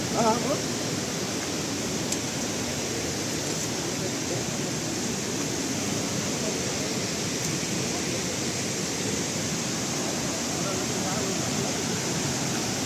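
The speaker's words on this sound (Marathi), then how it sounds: "आपण थोड्या वेळातच धबधब्याच्या प्रवाहामध्ये जाणार आहोत" Steady, dense roar of Savatkada waterfall in Rajapur, Konkan, fills the whole stretch, broad and constant as heard from fairly close, with no breaks.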